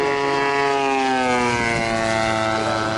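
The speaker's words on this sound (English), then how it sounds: "That motor sounds good." The engine of an RC model aircraft at a radio-control flying meet drones loudly and steadily, its rich harmonic whine shifting slightly in pitch as the plane passes.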